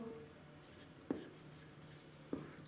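Writing on a board during a lecture on capacitors: two short, distinct strokes land about a second apart against a faint, quiet room.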